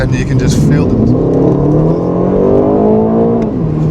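Aston Martin Vantage in Track Mode, engine and turbos rising in a loud climbing whir and rev that holds near and strong, with someone talking over it.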